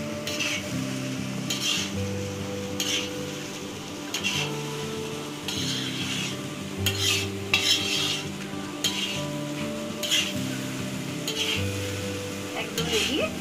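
Veg Chinese fried rice with pepper and a splash of vinegar is stirred in a hot pan, with repeated scraping strokes and a steady sizzle under soft background music.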